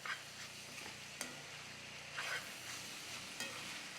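Ground beef for bulgogi sizzles steadily in a pan, a soft continuous frying hiss with occasional stirring scrapes, close and fairly quiet, with no talking.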